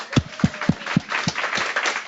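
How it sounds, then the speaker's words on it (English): Five or six sharp hand claps land close to a microphone in a steady rhythm during a staff town hall meeting, each crack loud and distinct before giving way to a softer murmur. "I shouldn't clap out the mic."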